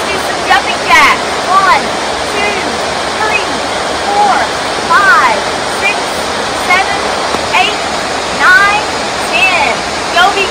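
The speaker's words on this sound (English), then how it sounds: "at a beautiful waterfall behind me" A waterfall roars as a steady, loud, broadband rush throughout, with birds chirping intermittently over the constant water noise.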